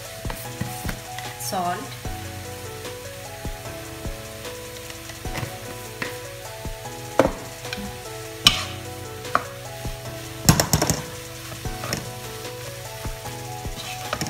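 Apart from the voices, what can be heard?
stirring pav bhaji with butter in a non-stick kadhai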